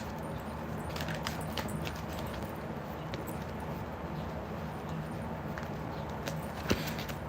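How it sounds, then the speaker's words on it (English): Tarot cards being shuffled by hand, a soft continuous papery rustle with scattered light flicks and taps, close and fairly quiet, with no talking. "I'll shuffle like 3 more times"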